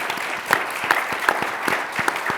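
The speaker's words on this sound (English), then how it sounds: "I think you deserve a big applause." Applause from a conference audience for the four panelists of an expert discussion, a moderate spread of claps with a few sharper, nearer hand strikes standing out, no talking over it.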